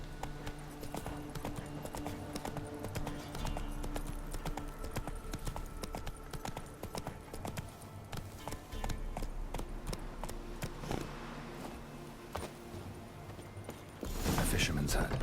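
Horse hooves clip-clopping at a steady walking pace in The Witcher 3: Wild Hunt, with continuous ambient game sounds and a brief louder burst near the end.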